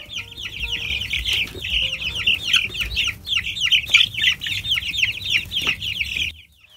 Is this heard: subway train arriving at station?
no